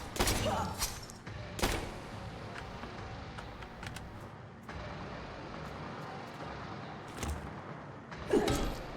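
Gunshots in the video game Tormented Souls, a few sharp, loud blasts spaced several seconds apart over a quiet, murky background.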